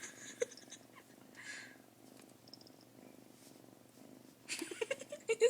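A cat purrs steadily in a low, continuous rumble, close and fairly quiet, with a few sharper louder noises breaking in near the end.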